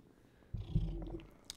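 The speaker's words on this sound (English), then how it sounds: "But Eli purrs constantly." Eli, a domestic cat, purrs softly close to the microphone in a short, low rumbling burst with no talking over it.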